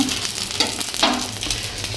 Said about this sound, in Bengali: চলো ডিম ভাজা হয়ে এসেছে